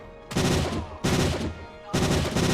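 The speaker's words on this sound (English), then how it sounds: "Okay, it's a firefight." Gunfire rips through a firefight in the game Detroit Simulator, three loud bursts of rapid automatic shots arriving about every 0.8 seconds, each dense and sustained with short gaps of quieter rumble between them.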